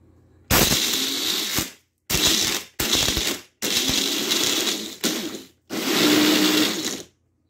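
Failing rear differential on a car with destroyed races and bearings, grinding and clattering harshly in five loud bursts separated by short silences, close by with no talk.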